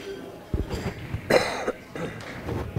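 A single close, sharp cough bursts out at a darts money-match event, followed by a couple of smaller throat sounds over low background chatter and room noise.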